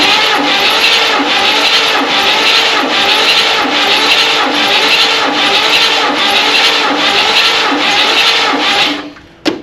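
A 1967 Buick Riviera engine cranks steadily on the starter during a compression test after sitting for over 20 years, a loud rhythmic churning with about nine even pulses before cutting off abruptly near the end.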